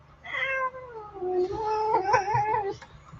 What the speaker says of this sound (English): sassy cat